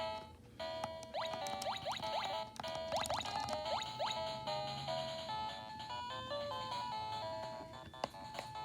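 Chiptune music and bouncy sound effects from old Mega Man on a Powkiddy X51 handheld, with quick rising blips over a steady beeping melody, thin and fairly faint.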